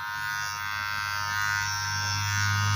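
Kemi 679 electric hair clipper switched on and running, giving a steady, close motor buzz that holds evenly and rises slightly toward the end.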